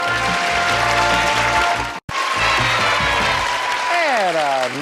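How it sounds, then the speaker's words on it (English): Game show studio audience applauding the players, dense clapping with a brief cut midway, then a musical sting gliding downward at the end. "a nice enthusiastic crowd here cheering for the players"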